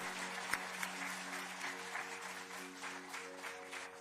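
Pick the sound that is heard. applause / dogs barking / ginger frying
applause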